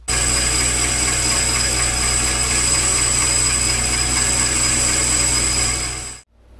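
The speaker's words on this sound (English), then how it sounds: "I'm going to take these pressure plates over, fixture them in the lathe, see if I can't renew the clutch surfaces on these." A lathe refaces the clutch pressure plates from a Caterpillar RD6/D6 starting clutch drive, producing a loud, steady machine whine and hum with a high-pitched tone. It holds constant for about six seconds before cutting off abruptly, with no talking.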